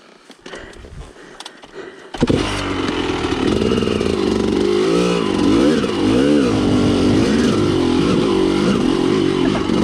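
Dirt bike engine revving hard while riding, starting with quieter clatter and then a sudden loud, sustained roar with rising and falling throttle swells close to the rider; no talking.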